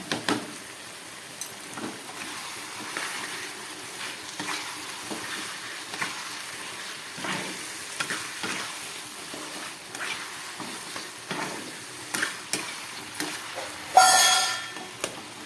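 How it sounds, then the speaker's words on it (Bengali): Meat frying in a pan with green chili, pepper and Kashmiri chili powder sizzles continuously while a spatula stirs in repeated scraping strokes, with a louder clatter near the end. "কাঁচা লঙ্কার গোলমরিচ দিয়ে এই মাংসটাকে রান্না করছি"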